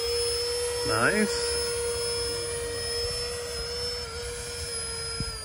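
A large electric ducted fan jet model hovers in still air with a steady, sustained whine and hum. A brief voice speaks early on.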